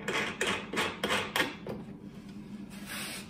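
A screw driven into a wooden mortising jig gives a series of about five rhythmic rasping, rubbing strokes in quick succession, then a quieter scrape, close up with no talking.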